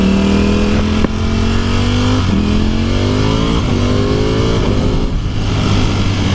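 A 2018 Ducati Panigale V4S motorcycle engine revs loud and close, its pitch rising and falling through several sweeps with no talk over it.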